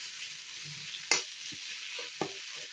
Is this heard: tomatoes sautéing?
yes